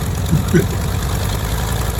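The piston engines of a B-29 four-engine propeller bomber run steadily at a WWII airshow weekend, a continuous low droning rumble with a brief faint mid-pitched sound near the start.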